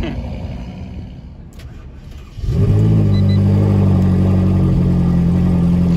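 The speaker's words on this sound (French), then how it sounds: "Donc là, le magnifique V10 Atmo. Et le bruit qu'elle fait, c'est incroyable." A naturally aspirated V10 car engine fires up after a quieter stretch and settles into a loud, steady, deep idle close by.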